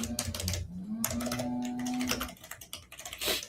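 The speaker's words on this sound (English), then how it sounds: "Whatever, I'll just type it." Typing on a computer keyboard, a close, irregular flurry of quick clicking keystrokes with brief pauses between bursts.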